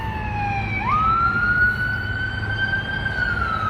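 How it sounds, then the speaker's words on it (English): An emergency vehicle siren wails outdoors, a loud rising and falling tone that sweeps up and then holds steady over a low traffic rumble, with no talk. "Siren's quite loud."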